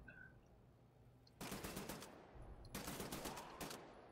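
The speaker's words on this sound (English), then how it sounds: "Oh, he's like blind firing right there." Enemy blind firing a gun in a Wolfenstein shooter, two sustained bursts of rapid automatic fire cutting in over quiet background ambience, loud and close, each lasting over a second.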